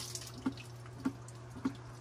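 Water filling an emptied well water tank in a home chlorination system, with soft, evenly spaced drips or clicks about every half second over a steady low hum, close and fairly quiet.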